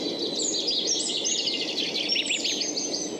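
A chaffinch sings outdoors in a park in spring, a bright, rapid run of descending chirps repeated steadily over soft background noise, fairly close and clear.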